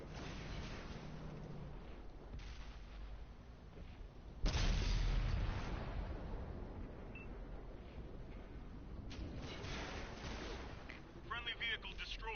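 Tiger tank cannon firing in the World of Tanks video game, one heavy booming shot with a rumbling tail over a continuous background of game noise and engine drone, with talk-like game sounds and faint chatter around it.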